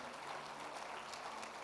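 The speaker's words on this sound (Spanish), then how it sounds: "Dale un aplauso a él." Steady crowd applause at a church service, a dense wash of clapping at even loudness with no pauses, heard from within a large room.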